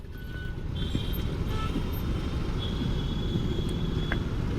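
Heavy road traffic jam near Mahipalpur with trucks, cars and bikes, a dense constant engine rumble with a faint reversing beep and a few thin tonal whines above it, heard from close range.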